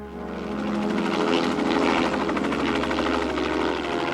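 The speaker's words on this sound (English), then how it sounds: "We'll go by helicopter." A helicopter drones loudly and steadily, rotor thumping throughout with a constant engine whine.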